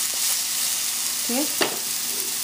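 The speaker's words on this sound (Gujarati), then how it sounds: "તો તમે મરચાં પહેલાં એને તેલમાં તળી નાખજો" Chilies frying in hot oil for a vegetable and meat stir fry: a steady sizzling hiss runs throughout, broken by a short stirring scrape and a brief sharper crackle near the end, with no talking.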